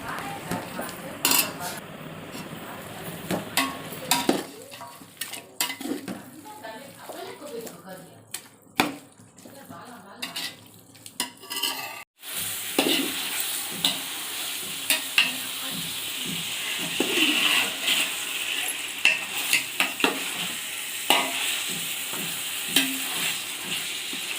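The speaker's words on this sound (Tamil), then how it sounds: "100 கிராம் கொத்தமல்லி, 100 கிராம் புதினா கட் பண்ணி தக்காளியோடு சேர்த்து நல்லா வதக்குங்க." Tomatoes sautéed with chopped coriander and mint in a pan for chicken biryani, a steady sizzle with repeated spoon scraping and clatter against the metal, louder in the second half, with a voice speaking now and then.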